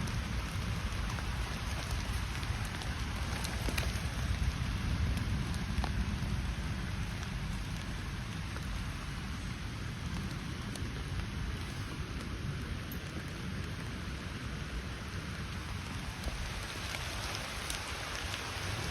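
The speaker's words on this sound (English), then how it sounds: "Poking around down here on the woodland floor in the rain." Steady rain falls on a woodland floor, a dense, even hiss of drops that stays loud and constant throughout, with no voices.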